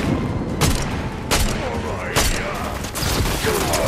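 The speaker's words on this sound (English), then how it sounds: "Shoot him in the head." Repeated gunfire in the Fortnite video game, with several sharp loud bursts spaced about a second apart over a dense background of game noise, while players talk over it.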